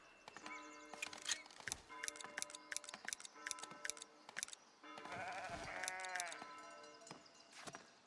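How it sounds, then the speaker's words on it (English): Sheep on a farm in the video game Foundation bleat repeatedly in quick bursts, with a louder drawn-out bleat midway, over a steady ticking background. "Ten sheep."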